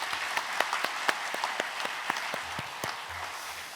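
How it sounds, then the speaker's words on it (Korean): A church congregation at a Korean men's mission dedication service claps in thanks for the pastor, a modest, moderately close patter of distinct hand claps that thins out after a few seconds, with no voices. "우리에게 은혜로운 말씀을 전해주신 목사님께 감사 박수 드리겠습니다."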